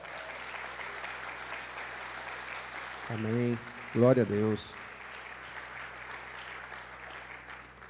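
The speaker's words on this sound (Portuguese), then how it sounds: "Você pode aplaudir o Senhor?" A church congregation applauds in a steady wash of clapping, while a voice speaks briefly over it.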